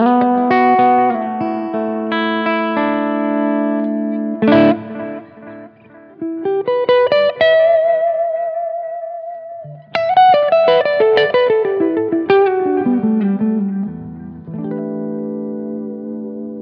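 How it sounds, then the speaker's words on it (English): An electric guitar plays through a Harley Benton delay pedal set for a tape-like delay. Sustained chords and melodic phrases trail off in warm, repeating echoes with a slight wobble, heard alone and clear with no talking. "It reminds me of like a tape delay."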